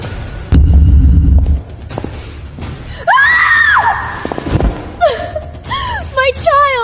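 A woman lets out a sharp, rising scream after falling to the ground, followed by sobbing cries and wailing, with a dull thud and raised voices from others nearby.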